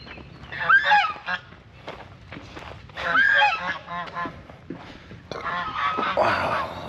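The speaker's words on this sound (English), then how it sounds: "look, there's some geese" A couple of geese honk in bursts near a temple in Siem Reap, Cambodia, their calls loud and close, separated by short pauses amid outdoor background noise.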